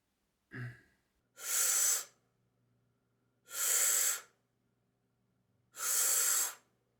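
Three long, loud breaths, each lasting under a second, rushing in or out with even spacing during a breathing exercise, preceded by a short sniff near the start; quiet gaps fall between them.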